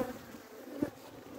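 Honeybees hum faintly around an open hive during a winter colony inspection, a soft, steady buzz with one brief louder pass of a bee close by.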